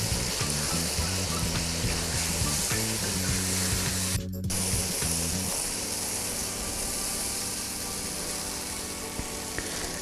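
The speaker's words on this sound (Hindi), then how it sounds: "इनको अब हमने 6 से 7 मिनट अच्छे से भून लेना है" Mashed potatoes and chickpeas frying in masala for chana masala: a steady, close hiss and sizzle lasting throughout, with a low rhythmic scraping of stirring and one brief louder spitting burst.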